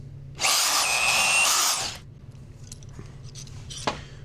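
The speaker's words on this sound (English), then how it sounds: "So let's drill some holes." A magnetic drill whines loudly for about a second and a half while drilling holes in a welding table, then stops, followed by faint clicks and a sharp knock.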